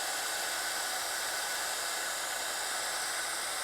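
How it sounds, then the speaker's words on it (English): A dual-setting heat gun blows hot air while heat embossing onto white cardstock, a steady close whooshing hiss that runs unbroken for several seconds. "heat gun that you're using for our heat embossing? It is, yeah. Just a normal heat tool."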